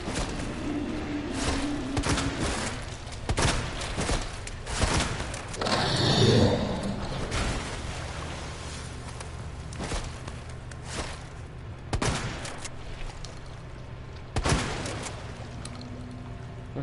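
Gunfire in Resident Evil 2, heard as a series of sharp, loud shots spaced out irregularly across the stretch over a low game ambience, with no talk.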